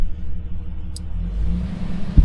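A Jeep TJ engine revs up as a TerraFlex hand throttle is clicked in, a steady low rumble swelling louder toward the end with a brief thump, no voices.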